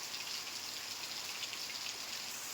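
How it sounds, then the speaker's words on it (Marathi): Pre-monsoon showers in Kankavli, Sindhudurg, Maharashtra, make a steady, soft hiss of rain falling on surfaces, with no voices. "सिंधुदुर्गच्या कणकवलीमध्ये सुद्धा सोसाट्याचा वारा आणि मान्सून पूर्व पावसाच्या सरी बरसल्या"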